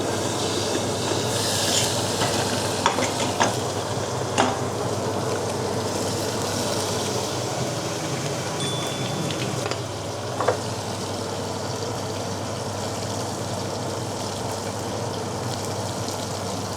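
Curry leaves and tomatoes hit cumin rice in a pot, with a steady low sizzle, occasional spoon clicks and a constant low rumble underneath.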